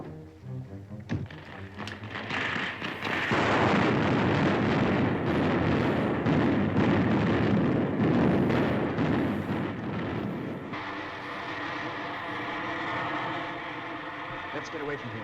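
Bombs burst one after another in a bomber attack from an old film serial, a loud sustained rumble of blasts and debris that swells early and stays heavy before easing toward the end, with speech mixed in.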